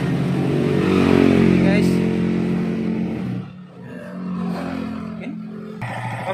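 An overhauled Honda TMX155 motorcycle engine runs steadily and fairly loud, its hum dipping briefly midway, while someone talks over it.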